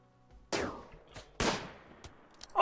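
A gunshot in RimWorld rings out sharply, followed by a second distinct shot about a second later, each leaving a short decaying tail, with a few faint clicks between them.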